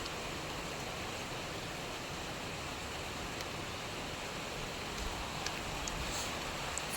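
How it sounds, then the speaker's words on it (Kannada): Light rain falling over a garden, a steady even hiss of drizzle throughout with a few faint drips near the end. "ಸ್ವಲ್ಪ ಸ್ವಲ್ಪ ಮಳೆ ಬರ್ತುಂಟು."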